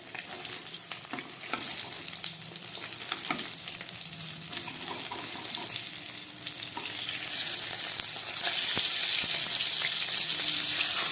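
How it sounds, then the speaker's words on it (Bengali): Steady crackling sizzle of fish frying in hot oil, growing louder and brighter toward the end, with no voices. "মাছগুলো ভাজা হয়ে গেছে আমি তুলে ফেলছি"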